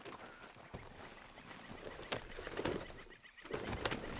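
A horse in Red Dead Redemption 2 whinnies and its hooves clop along at an easy pace, with sharp impact transients and a steady background of outdoor ambience.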